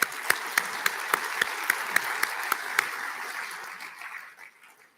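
An audience at a heavy-duty vehicle summit keynote claps together, a sustained burst of applause with a few sharp louder claps near the front that tapers off toward the end.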